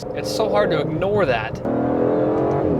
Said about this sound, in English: Astons make such a nice noise.